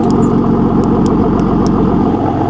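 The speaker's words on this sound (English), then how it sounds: "So it actually sounds stock. You can barely hear the car. It sounds muffled, right?" A car with a VQ engine and its exhaust valve closed idles steadily with a low, muffled rumble, constant and close, with no talking.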